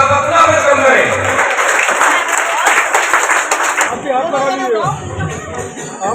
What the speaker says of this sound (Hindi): तो एक बार जोरदार तालियों के साथ आप अपना वेलकम करें।